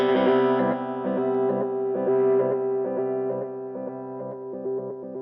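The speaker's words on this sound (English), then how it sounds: "so this will give you a delay and the tremolo effect." Guitar played through a Donner Mod Square II mini pedal on its delay and tremolo setting, sustained distorted chords pulsing rhythmically with steady, moderately loud repeats throughout.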